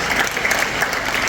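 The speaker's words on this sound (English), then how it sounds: "Please give him a round of applause." Audience applause at an industry expo, a loud, dense burst of many hands clapping together, close and continuous through the brief moment.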